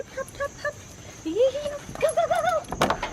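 A dog whimpers and whines in rising, wavering cries, close and fairly loud, with a few short squeaky yelps before and a burst of shaking or jangling near the end, just before a camping trip.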